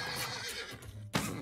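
A horse in the video game Rustler gives a loud, close neigh, a drawn-out whinny followed by a sharp snort-like burst near the end.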